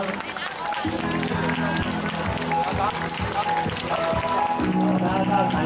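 Applause from an event audience greeting Mayor Huang Wei-che, steady clapping under an announcer's amplified voice and music.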